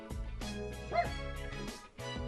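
Koromaru, a dog in the fighting game Persona 4 Arena Ultimax, gives a short yipping bark over layered game music, with a brief high whine near the middle. The sound is close and moderately loud, and no one speaks.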